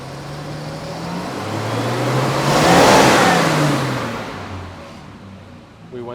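A 1973 Triumph TR6 engine revved to higher RPM, a close rasping roar that swells to a peak midway and then falls back toward idle.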